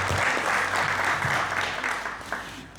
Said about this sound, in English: Can we have a round of applause for our lovely volunteers?